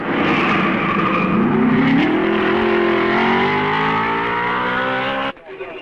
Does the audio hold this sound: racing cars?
yes